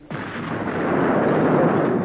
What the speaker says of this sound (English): This is the sort of bang you get when an acetylene cylinder explodes.